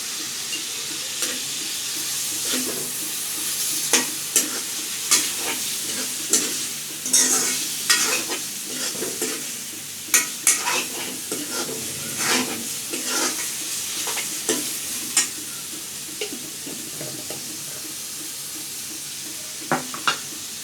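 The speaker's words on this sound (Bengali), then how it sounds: "সব মশলা দিয়ে আবারও ভালোভাবে নেড়ে চেড়ে নেওয়া হচ্ছে।" Potatoes and eggs frying in a pan with spices being stirred in, chili powder among them: a steady sizzle punctuated by irregular scraping and knocking stir strokes, close and fairly loud, with no talk.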